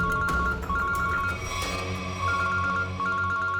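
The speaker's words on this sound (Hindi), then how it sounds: "एसीपी सर का फोन।" A telephone ringtone repeats in steady electronic bursts in a police drama scene, sounding clear and even against faint background music, with no speech.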